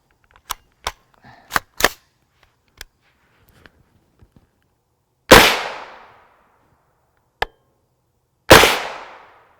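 Gunshots from a 16-inch AR-9 carbine firing 9mm rounds, with several sharp cracks in quick succession early on, then two louder, echoing reports and a single crack between them, loud and close.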